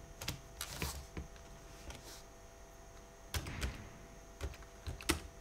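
Scattered clicks and taps on a computer keyboard, quiet and close, come in irregular bursts with short pauses and no voices.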